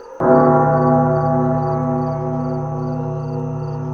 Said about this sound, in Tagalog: sa gabi, naririnig ko pa rin ang kampana.